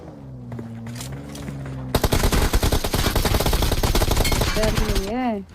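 Loud, rapid bursts of automatic gunfire in a shooter video game squad fight, dense and close, after a short tonal intro and ending with rising electronic tones.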